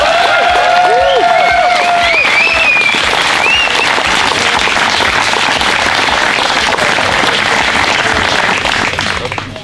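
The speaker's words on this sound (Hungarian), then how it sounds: "Egy nagy tapsot" Wedding guests applauding loudly and continuously after the vows, dense close clapping from a crowd with a few cheers mixed in, fading slightly at the end.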